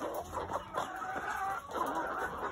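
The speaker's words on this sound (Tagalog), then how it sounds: "Ang healthy ng mga manok nila" Several chickens cluck and chatter continuously close by, with a steady hum of farm noise underneath and no talking.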